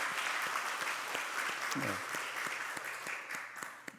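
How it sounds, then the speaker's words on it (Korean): A church congregation applauds to welcome a returning family during a Sunday worship service, steady sustained clapping filling the room with a brief spoken word near the middle. "우리 환영하겠습니다. 박수로 환영하겠습니다"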